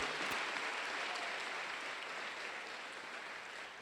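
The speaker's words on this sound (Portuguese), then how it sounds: "Pode aplaudir o Senhor Jesus, aleluia, glória a Deus." A church congregation applauds during a sermon. The clapping is a dense, sustained roar that holds steady and slowly eases off, with no speech over it.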